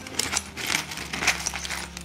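Dug-up Soviet coins, including a 1961 five-kopeck piece, clink lightly as they are handled, with a few short, bright metallic taps over a steady low hum and background noise.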